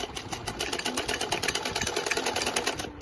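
Sewing machine stitching salwar fabric, a fast steady mechanical whirr with rapid needle pulses running continuously at close range.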